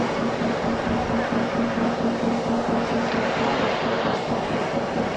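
A cold rolling steel rebar drawing machine runs on its 55 kilowatt motor, a loud, steady, close industrial drone with a constant low hum.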